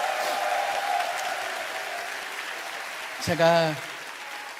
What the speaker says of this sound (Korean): 한 번 더 박수 한번 드릴까요?